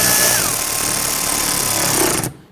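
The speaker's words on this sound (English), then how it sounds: "You can actually hear the impact driver bogging down a little bit as it seats." An impact driver tightens headlight mounting screws on a 2011-2023 Dodge Charger 3.6L V6. It runs as one loud, close, continuous whir with a slight downward pitch dip, then stops abruptly just before the end, with no talking.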